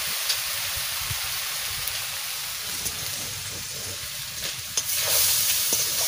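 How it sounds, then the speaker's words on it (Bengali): Grated coconut fries and sizzles steadily in a pan, turned with stirring scrapes, a dense close hiss lasting throughout with no voices. "নারকেল ভাজা হয়ে গেছে,"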